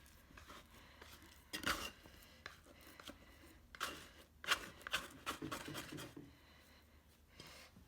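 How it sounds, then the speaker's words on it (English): Sourdough bread dough that sat overnight being scraped out of its container onto a heavily floured board, giving a few close, brief scraping and rubbing bursts separated by quiet pauses. "I'm gonna scrape it out onto a very well floured board"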